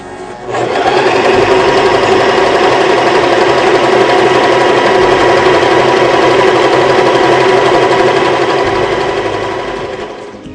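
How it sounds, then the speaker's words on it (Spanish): Janome 2012 sewing machine running a reinforcement stitch, a loud steady motorized whir with rapid needle clatter, starting abruptly and running alone for about ten seconds. "Ahora vamos a continuar con la costura de refuerzo correspondiente a la letra B."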